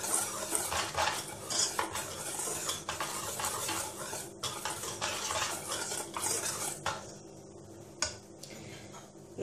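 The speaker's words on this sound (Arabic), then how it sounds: "نمزج جميع النواشف مع بعض" Flour and other dry ingredients for zalabia batter being mixed together in a bowl, a close scraping, rustling stir with soft utensil clinks, continuous and then easing off near the end, no talk.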